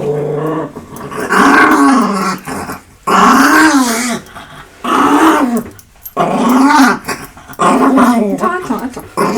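A small dog growls while being put into a little sweater, giving loud, close, rumbling growls in repeated bursts of about a second or two with short gaps between them.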